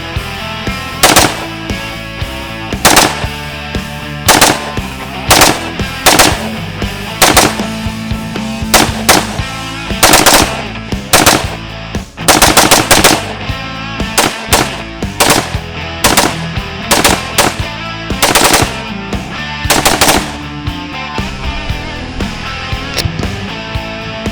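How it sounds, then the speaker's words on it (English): A rifle with a binary trigger fires in rapid paired bursts outdoors, loud sharp cracks coming in quick strings with short breaks between volleys. "We're going binary with the come and take it rifle."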